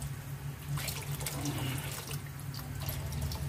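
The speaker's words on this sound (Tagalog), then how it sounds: "dadagdagan natin ng tubig" Water pours steadily into a cooking pot of elbow macaroni, a continuous splashing flow close by with a low background hum, lasting the whole moment without speech.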